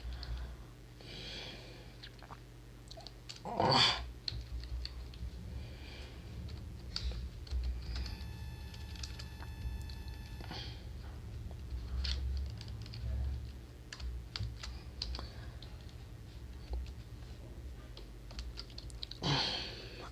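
Code is typed on a computer keyboard in quiet, uneven bursts of soft key clicks over a low room hum, with a few louder taps standing out.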